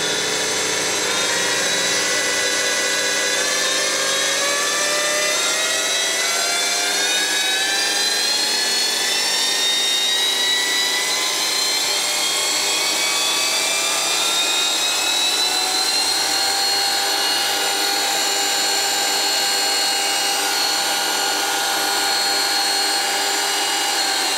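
Scheppach DP55 benchtop drill press spinning up toward 500 RPM, a steady loud motor whine with rising and shifting tones, no talk.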